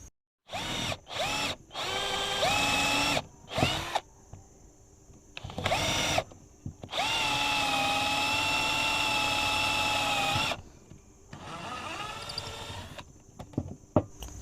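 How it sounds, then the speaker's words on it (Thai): A Bonya cordless drill in drilling mode whirs in several short bursts, then runs steadily for a few seconds before stopping, followed by another brief run; loud and close. "มาดูโหมดที่ 2 นะครับโหมดเจาะนะครับ"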